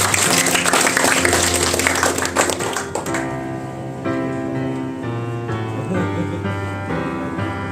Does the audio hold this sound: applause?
yes